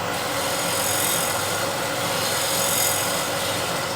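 A negative rake scraper works across a rough surface, producing a steady, close, dry rasping scrape that runs continuously without pauses or speech.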